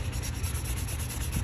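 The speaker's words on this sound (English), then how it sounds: "sanding pads." Foam sanding pads, grits from 400 up to 3,000, rubbed across a knife blade, giving a steady, close, continuous scratchy rasp with no speech.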